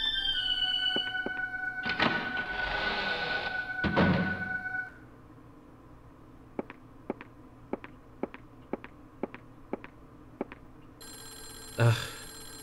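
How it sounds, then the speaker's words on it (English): Telephone ringing in the Clock Tower First Fear video game: about nine sharp, evenly spaced rings in a quiet scene, preceded by louder game sounds and a thump near the end. "It's that bloody phone again."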